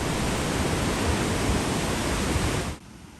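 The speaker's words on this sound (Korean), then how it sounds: "덕분에 폭포의 힘찬 물소리에 오롯이 둘러싸여서 오히려 더 좋았습니다" A waterfall in Yakushima, Japan, heard from a bridge: a loud, steady rushing roar of falling water that fills the space, then drops off abruptly near the end.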